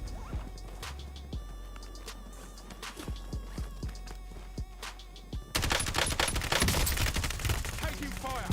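Rapid gunfire in a video game, a string of sharp separate shots that gives way to a louder, denser burst of fire and noise near the end.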